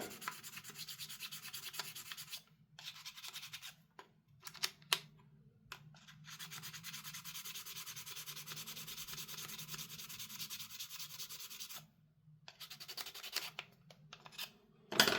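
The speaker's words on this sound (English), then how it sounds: "Just basically trying to remove any moulding lines or mould marks. Just smoothing the surface up a little bit." Sanding or rubbing away mould lines on airsoft gun option parts for a Maruyama MP9 gas blowback rifle, a steady close scratchy abrasion broken by brief pauses, with no talking.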